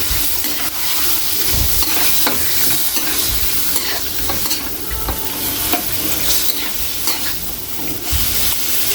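Pork liver cooking in a hot pan, a loud, dense, continuous sizzle and hiss with occasional stirring knocks, very close and filling the whole stretch.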